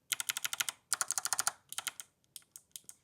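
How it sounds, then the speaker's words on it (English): Fingers type quickly on an 8BitDo retro mechanical keyboard. The keys give crisp, close clacks with a bottoming-out clunk, first in two fast bursts and then slowing to a few scattered keystrokes. "This is my 8-bit do retro keyboard."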